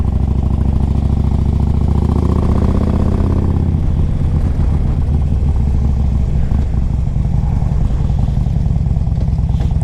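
A 2005 Harley-Davidson Electra Glide Classic with a 1550 big bore kit idles close by, a loud, steady, lumpy low rumble that shifts in tone partway through.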